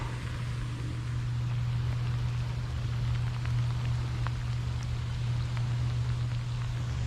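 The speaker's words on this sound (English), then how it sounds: "Rain's getting heavier." Steady, dense hiss of heavy rain at a pond in Florida with a low constant hum underneath, no voices, continuous and unbroken throughout.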